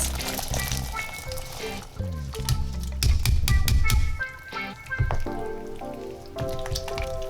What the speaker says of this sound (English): Then pour some more water until your pot is full.